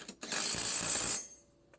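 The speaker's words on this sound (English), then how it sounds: "Again, this takes a 15/16 socket." Ratchet wrench with a 15/16 socket turning a spindle nut on a John Deere S100-series mower deck: a short, dense burst of fast metallic clicking lasting about a second, close and alone, then quiet.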